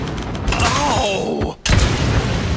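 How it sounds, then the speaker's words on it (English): Weapon fire from the video game Paladins, a steady dense barrage of game shots and effects heard up close, with a brief dropout near the end before the clatter resumes. "They're firing on me!"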